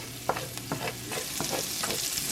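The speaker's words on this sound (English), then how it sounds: "let it go low and slow until the onions start to get translucent and caramelize" Onions sautéing low and slow in a pan with cracked black pepper give a steady, close sizzle, broken by several sharp stirring scrapes and clacks.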